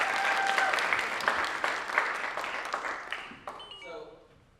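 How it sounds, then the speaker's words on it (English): A crowd claps loudly, then the applause thins out and fades away over a few seconds. "Give a round of applause for Stephanie, please."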